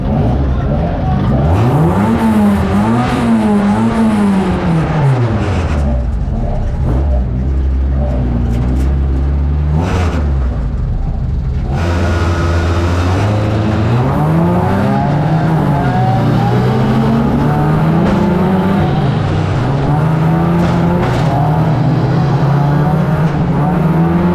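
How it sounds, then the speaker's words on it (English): Race cars in a racing video game roar steadily throughout, engine pitch sweeping up and down through gear changes as the field runs together on track, loud and continuous with no voices. "this here just shows how many cars there are actually out on track at once"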